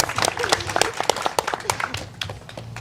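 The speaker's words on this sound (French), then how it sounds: "On peut l'applaudir." A small group at a meeting claps for a mayor for a few seconds, scattered and uneven, fading out toward the end.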